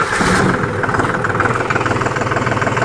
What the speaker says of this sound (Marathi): मित्रांनो आता तुम्हाला ट्रॅक्टर चालू करून दाखवतो. याचा आवाज बघा, कारण ट्रॅक्टर जो आहे ना तो नवीन आहे.